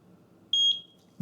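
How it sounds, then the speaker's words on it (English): A Eufy video doorbell gives a single short, clear electronic beep while syncing with its home base, followed by a brief click; no one speaks. "Yes, I heard a beep."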